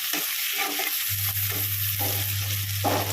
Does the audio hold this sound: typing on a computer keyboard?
no